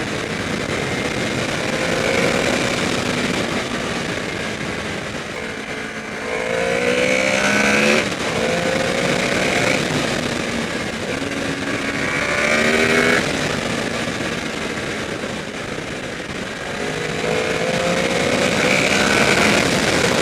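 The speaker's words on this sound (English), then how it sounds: "I keep not revving it enough or revving it too much." A 2014 Honda VFR800F V4 motorcycle engine revs repeatedly, each rise in pitch sweeping up and falling back every few seconds over a steady, loud mechanical drone, with no voices.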